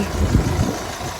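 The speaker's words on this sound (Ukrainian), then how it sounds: "Двигун працює взагалі як часики, не димить, не пихтить, хоч це і є дизель" A 2013 Ford Mondeo Mk4 2.0 TDCi diesel engine idling steadily with a low, even rumble, close by and continuous without any talking.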